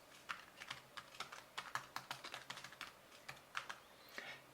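Keys patter on a computer keyboard as details go into a spreadsheet cell, a quiet, close run of uneven clicks and taps with no talk.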